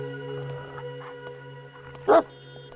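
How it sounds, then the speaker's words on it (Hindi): A single loud dog bark rings out near the end over a faint steady hum, with a few softer sounds before it and no speech. "ये सर का कुत्ता है ना?"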